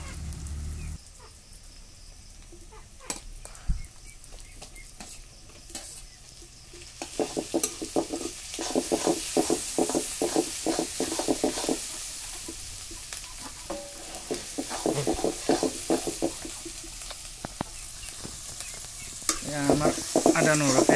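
Duck meat curry sizzles in a wok over an open flame, village style, with loud, rhythmic scraping stirs rising over a continuous frying hiss.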